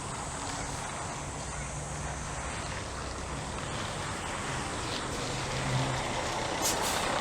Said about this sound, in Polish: O, ktoś autobusem jedzie, przestawię się.